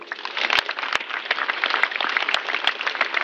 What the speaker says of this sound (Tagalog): pumalakpak po kayo